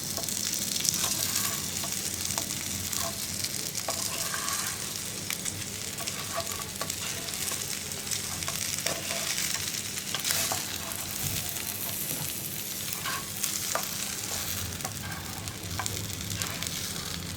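Chicken leg pieces with grated coconut for Payyoli chicken fry, gently stirred in a pan: a continuous soft sizzle with light scraping of the spoon, steady and close, no voices.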